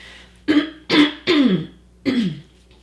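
A woman coughs and clears her throat four times in quick succession, close and fairly loud, each burst short and raspy with brief pauses between, no speech around it.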